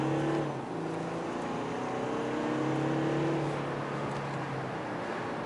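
A second-generation 2018 Audi A7 S Line Sportback with quattro all-wheel drive accelerates hard at full throttle, its engine note rising in a steady, sustained pull heard from inside the cabin, loud and continuous with no talking.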